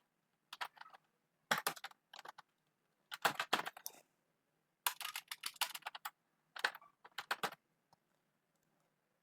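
Bursts of quick clicking keystrokes on a computer keyboard as a bank manager ID is entered, several short clusters separated by pauses, close and clear with no talking.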